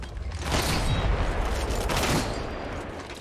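Bursts of gunfire from the battle royale shooter Apex Legends, several overlapping volleys crackling through the whole stretch at fairly loud, steady volume, with no talk.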